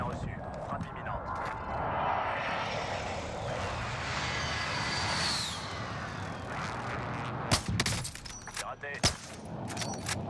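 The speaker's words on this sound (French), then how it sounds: "J'ai besoin d'un soutien aérien." Air support strike aircraft roaring overhead in the video game Call of Duty Warzone, a loud sustained jet rush with sharp explosive bangs near the end, under game voice lines.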